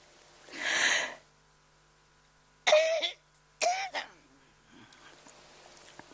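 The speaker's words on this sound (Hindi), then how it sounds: "भाई खांसी को छुट्टी दो" A man coughing during a morning class in London, three separate harsh bursts, the first longer and the next two sharp and close together, followed by faint rustling and quieter throat sounds.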